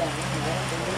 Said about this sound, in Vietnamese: trời thì đang mưa